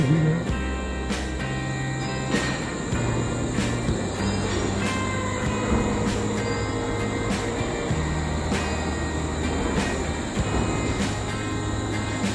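A Wuppertal Schwebebahn suspended railway train rolls steadily past with rumbling wheels, rhythmic clacks over rail joints and a faint high squeal, loud and continuous without talk.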